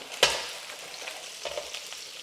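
Pork ribs being braised salty and caramelized in a frying pan give a steady sizzle. A sharp clatter near the start is followed by soft scraping stirs.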